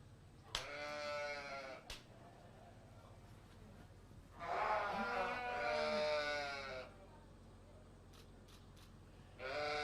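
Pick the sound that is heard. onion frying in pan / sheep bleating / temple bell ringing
sheep bleating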